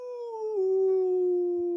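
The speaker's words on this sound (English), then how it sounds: "Oh, the puppy." A puppy howls in one long, sustained, wavering cry that drops slightly in pitch partway through, close and fairly loud, with no talking over it.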